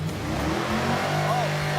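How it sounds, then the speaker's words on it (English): A loud 1965 Ford Econoline Wheelie Wagon engine revs hard, a dense rumbling roar with rising and falling pitch sweeps, heard close and steady throughout. "It's a really loud car."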